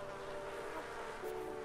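Bees buzz in The Sims 4, a steady, close, droning hum with a constant level and no talk over it.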